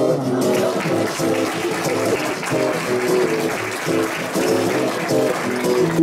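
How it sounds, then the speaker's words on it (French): An audience claps steadily for several seconds in a French performance hall, a dense, even patter of many hands at moderate loudness with no voices on top. "vous pouvez m'applaudir"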